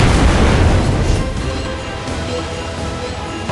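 A heavy naval cruiser gun firing in World of Warships Blitz, a loud booming blast at the start that rolls off into a fading low rumble.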